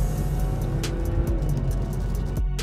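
A Honda Accord drives alongside on the road, a steady, close engine and tyre rumble that holds throughout with no talk.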